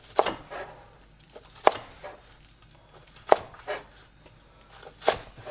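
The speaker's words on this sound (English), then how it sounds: "Chop these a little bigger." Knife chopping vegetables on a cutting board while preparing Korean beef bulgogi lettuce wraps: four sharp, separate chops spaced about a second and a half apart, close and clear against a quiet kitchen.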